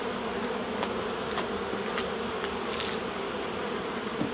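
Honey bees buzz steadily and close at a hive during a spring inspection, a dense continuous drone with individual insects flying past now and then, and no speech.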